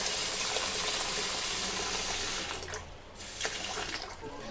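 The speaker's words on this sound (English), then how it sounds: "and then rinse again 3 times" Glutinous rice being rinsed under running water in a sink, a steady rushing gush of tap water that briefly thins and splashes before flowing strongly again, close and alone.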